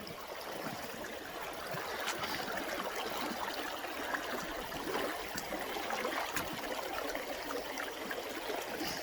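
Water runs briskly through a woodland stream in a steady, continuous rush with a faint trickle and gurgle throughout, fairly close and undisturbed by voices.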